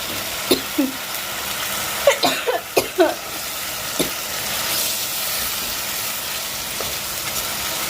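Fish frying in a pan with potatoes, a continuous close hiss of hot oil broken by several sharp spatters and stirring clatters in the first few seconds, then settling into steady sizzling.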